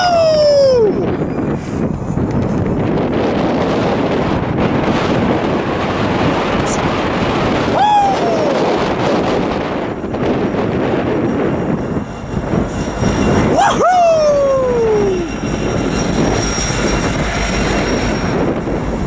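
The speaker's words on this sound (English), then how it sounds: "Here comes engine 8335, it looks like." A Union Pacific locomotive arrives at West Colton, rumbling loud and close with steel wheels squealing and screeching in sweeping glides while wind buffets the microphone; a voice speaks briefly.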